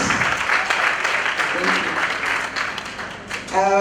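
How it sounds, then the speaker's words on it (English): Sustained applause from a crowd at a film awards gala in Northern Uganda, steady and full, with a voice rising over it near the end. "Let's have a big round of applause."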